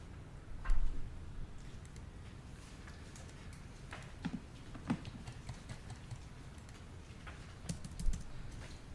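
Typing on a computer keyboard while taking notes during a court hearing: a steady, fairly quiet stream of key clicks with a few louder taps, continuous over a low background hum, no talking.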